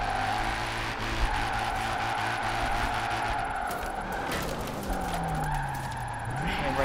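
A BMW E46 with a grippy drift setup holds a long slide in Forza Horizon 4, the engine droning high on power under continuous tyre squeal, pitch dipping and climbing again near the end.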